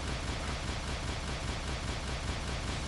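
A video game turret keeps up rapid, continuous fire, a dense rattling stream of shots at steady loudness with no talk.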